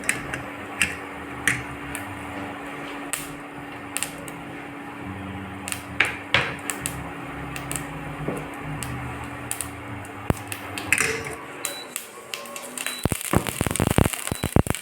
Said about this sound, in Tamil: இப்போ நம்ம கடுகு போட்டிருக்கோம் தாளிக்கிறதுக்கு கடுகு பெருங்காயம் கடுகு வெடிக்குது